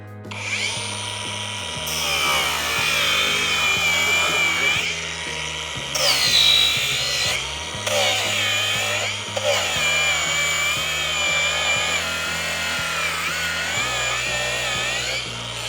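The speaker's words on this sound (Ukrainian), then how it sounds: "Ну а зараз ми ще трохи пошліфуємо." A Procraft AG125A cordless angle grinder fitted with a sanding pad whines steadily at low speed, its motor tone shifting in pitch as pressure and speed change, sustained and close with brief pauses between passes.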